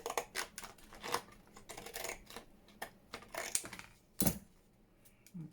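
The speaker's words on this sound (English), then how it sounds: "I'm going to go across here with the zigzag scissors." Zigzag scissors cut across plastic packaging in quiet, close snips: a string of irregular crisp clicks and crunches with small pauses between cuts, and no talking.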